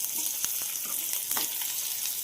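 Onions, green chillies and curry leaves sizzle steadily in a pan while being stirred, with a few sharp scraping clicks of the spoon over the continuous close frying hiss.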